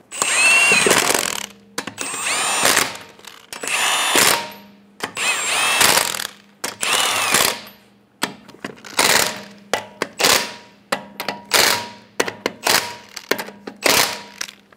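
An impact power tool snugs lug nuts on a 2003-2008 Honda Pilot wheel, firing in repeated short, loud bursts separated by brief pauses, each burst ending with a rattling hammer.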